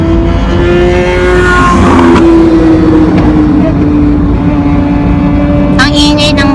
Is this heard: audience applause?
no